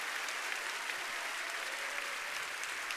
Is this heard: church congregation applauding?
yes